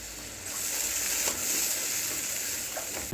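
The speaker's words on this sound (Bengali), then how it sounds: "এবার বেশ করে কষিয়ে নেব।" Fish pieces frying with turmeric and chili powder in oil, a constant close hiss of sizzling throughout with faint stirring.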